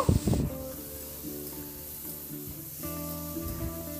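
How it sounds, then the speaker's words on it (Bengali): Potato and raw banana pieces stir-frying with spices in a pan make a soft sizzle, with clatters of stirring near the start and a low, steady hiss under a faint background hum. "আবার আমি আলু আর কলাটা মশলার সঙ্গে মিনিট 2-3 নাড়াচাড়া করে একটু কষিয়ে নেব।"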